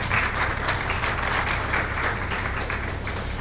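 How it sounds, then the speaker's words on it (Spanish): An audience at a university peace-and-justice panel gives sustained applause, a dense, even wash of clapping that carries on at steady loudness without pause. "Un aplauso, por favor."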